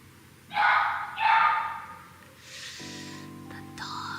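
Indoors, a dog lets out two loud, close barks followed by a softer huffing sound, then background tones and a faint final yip.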